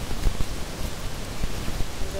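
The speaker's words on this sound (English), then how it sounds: "the rain's come down." Rain falling on the way west from the Stirling Range National Park, a steady soft hiss with scattered low patters and thuds, fairly close and even throughout.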